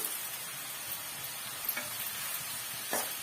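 Onions for onion thokku sauté softly in a pan over a medium flame, a faint, steady hiss with a couple of light stirring scrapes and no voices.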